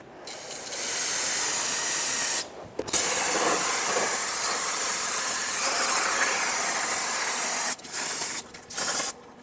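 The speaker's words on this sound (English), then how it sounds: "Rinse everything off with brake parts cleaner once you're done." Brake parts cleaner is sprayed onto the rear brakes of a 2008-2012 Honda Accord in long, loud, close hissing blasts, broken by short pauses and a few brief bursts at the end.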